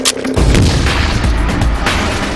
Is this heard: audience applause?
no